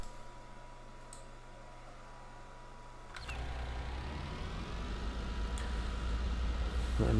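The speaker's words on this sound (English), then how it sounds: "My mother is using the hair dryer." A faint, steady whooshing hum rises partway through and keeps running in the background, like a hair dryer blowing.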